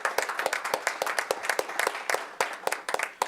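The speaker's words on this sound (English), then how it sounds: "Round of applause for our panelists" A round of applause from an audience, steady scattered clapping throughout, fairly close and moderately loud.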